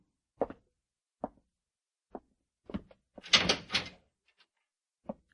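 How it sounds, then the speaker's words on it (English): A cell door is closed in an old-time radio western drama, heard as a series of separate wooden thuds and clunks with a louder rattling burst in the middle, all against near silence. "Go in and close the door behind you."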